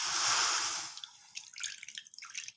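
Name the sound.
water poured into a kadai on the gas stove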